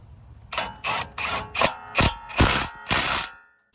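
An impact wrench drives wheel studs on a Lexus GX470, firing seven loud, close hammering bursts in quick succession, each a short rattling rat-a-tat, before stopping; no speech.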